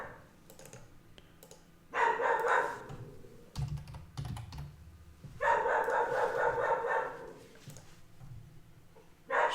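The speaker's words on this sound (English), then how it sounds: "She used to be such a quiet dog." A dog barks in two loud bursts over steady keyboard typing and clicking, close by indoors, with quieter gaps between the barking spells.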